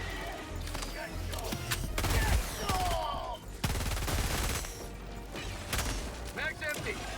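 Bursts of automatic gunfire and clattering mechanical impacts fill a chaotic Helldivers 2 battle, loud and layered with crashes and voices shouting over the action.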